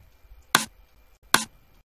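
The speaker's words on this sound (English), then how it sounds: "And then of course you got like snare sound" Two crisp high-passed snare drum hits from a moombahcore edit, evenly spaced and isolated, each a short bright crack with a quick decay against near silence.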